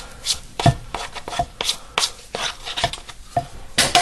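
A bench scraper chops through buttermilk biscuit dough on a board, giving a run of sharp, close knocks and scrapes at an uneven rhythm, each cut landing with a dull thud.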